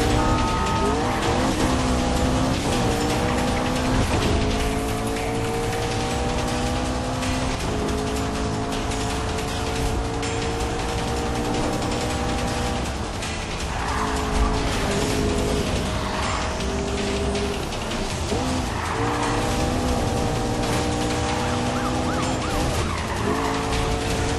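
Cars race in Need for Speed Rivals on PS3, with steady loud engine drone, gear changes and tire skids running continuously, shifting pitch as the vehicles accelerate.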